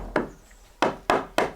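A wooden piece tapped into place during farmhouse restoration work: four sharp knocks, one alone and then three in quicker succession, close and clear with no talk.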